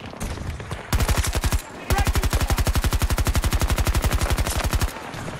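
An AK rifle fires in Battlefield 2042: a short rapid burst, a brief pause, then a long sustained stream of close, loud automatic shots in even rhythm.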